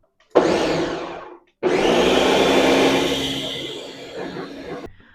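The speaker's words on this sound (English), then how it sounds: "Just make sure it's nicely blended till it's nice and smooth." A kitchen blender whirs loudly as it purees cottage cheese for everything bagel dough, in two bursts: a short first run, a brief pause, then a longer steady blend that gradually softens before stopping.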